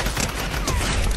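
Dense, loud burst of rapid gunfire from a video game shooter, continuous through the short stretch with a busy background of battle noise and no talking.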